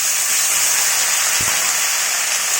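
Steady, dense hissing crackle of chopped onions, green chilies and potatoes frying in hot oil fills the clip, with a brief low knock near the middle.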